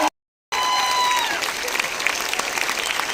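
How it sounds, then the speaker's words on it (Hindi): An event audience in Baroda applauds for Surekha madam, breaking into loud, sustained clapping with some crowd noise after a brief silence and a faint tone at the start. "क्या इस गर्मी को और खड़े होकर अपनी जगह पर सुरेखा मैडम के लिए जबरदस्त तालियां बजा सकते हैं हम लोग?"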